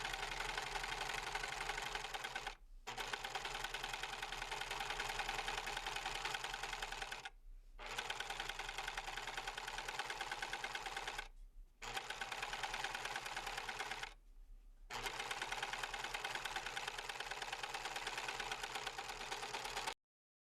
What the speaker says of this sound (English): the nice thing about a serger, make sure I'm not talking when it's going